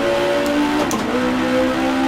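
A race car engine holds a strong, loud drone, dipping briefly as the driver shifts up to fourth and back down to third through a corner, with faint tire noise.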